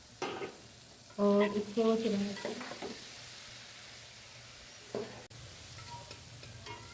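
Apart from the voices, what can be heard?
chopped tomatoes added to frying potatoes and cauliflower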